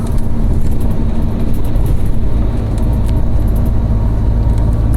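Cars race through a road tunnel, a loud, continuous, reverberant roar of engines and tyres that fills the enclosed space, with no voices.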